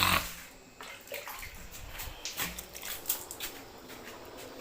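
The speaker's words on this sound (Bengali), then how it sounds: "সামান্য একটু জল দিয়ে দিলাম" Water poured into a pot of fish cooking with mustard leaves, a soft splashing trickle that runs on steadily for several seconds with small wet bursts, close and fairly quiet, no talking.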